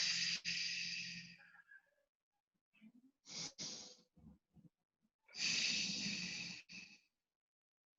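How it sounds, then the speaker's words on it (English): Deep breathing during trigger point massage: three slow, close, breathy inhales and exhales with pauses between them, plus faint soft sounds in the gaps. "Breathe. Deep breaths."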